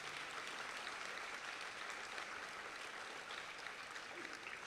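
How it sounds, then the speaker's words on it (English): A crowd claps at the inaugural lamp-lighting of the Bharat Sangeet Utsav 2016 music festival, producing a fairly quiet, even wash of applause that holds steady from start to finish. "let's give one more round of applause"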